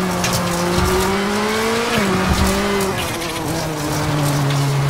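Rally car in WRC 7 on the Xbox One, engine droning steadily with a wavering pitch as it slides and skids, tires squealing throughout, loud and continuous with no voices.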